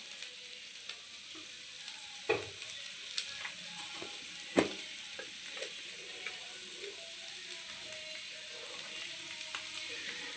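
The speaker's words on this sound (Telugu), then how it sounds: "ఇందులో అవన్నీ ఫ్రై చేసుకుంటా" Vegetables sizzle steadily in a pan for a chapati roll, a soft continuous frying hiss broken by occasional clicks and scrapes of stirring, heard close and alone.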